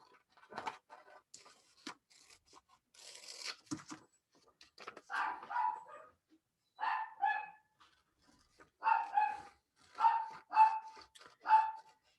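Several dogs bark at home as someone leaves, giving sharp, loud barks in irregular bursts that grow more frequent toward the end, with some yips mixed in and no talking.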